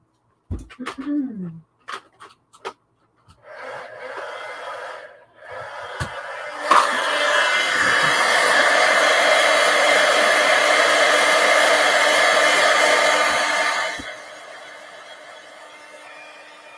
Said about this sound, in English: Let me plug in my heat tool here.